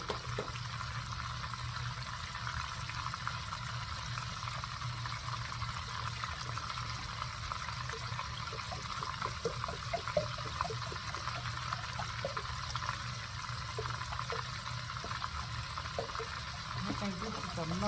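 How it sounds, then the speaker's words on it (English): Hot broth poured into a bag holding freshly cooked hot meat for a pot roast, a steady soft trickle and splash running close by for most of the stretch, with light kitchen background. "all I got to do is pour the hot broth in the bag with the hot meat"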